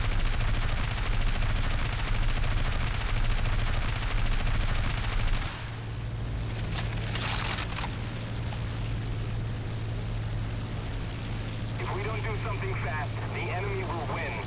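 Dense, loud aircraft machine-gun fire from strafing runs on ground targets in the War Thunder flight combat game, with a Bf 109 E3 or MC.202 fighter, a steady engine drone beneath and bursts easing after a few seconds; voices talk over it.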